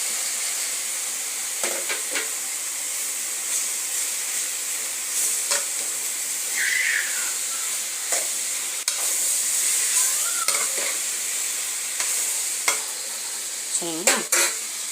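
Small onions, garlic and tomato fry in a pan for an eggplant gravy, a steady close sizzle with occasional stirring scrapes and clinks.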